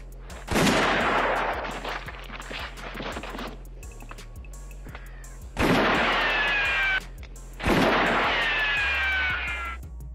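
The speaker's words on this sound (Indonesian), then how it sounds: "Mata malaikatlah yang ditembak pertama kali dan pistol Tuko ternyata sudah dikosongkan sama Blondie" Three loud gunshots ring out in a western film duel, each a sharp blast followed by a long ringing echo, spaced a few seconds apart, with sparse music and no voices in between.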